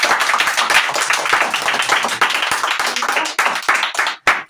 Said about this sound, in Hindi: इनके लिए जोरदार ताली होती है।